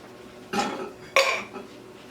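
Drained canned corn tipped into a cooking pot for Texas hash, two distinct clattering dumps a moment apart, each a bright burst of kernels hitting metal, close and fairly loud with no talk.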